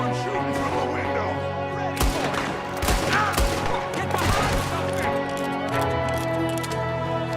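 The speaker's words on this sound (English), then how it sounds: "there's another one shooting from the window" Gunfire in a Red Dead Redemption 2 shootout, with scattered sharp shots cracking over a steady background of music and game ambience, some close and loud, others sparse.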